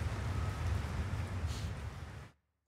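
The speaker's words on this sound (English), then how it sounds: "Starts raining." Steady in-game rainfall on a rooftop in Final Fantasy 16, a dense even hiss with some low rumble running loud for about two seconds before cutting abruptly to silence.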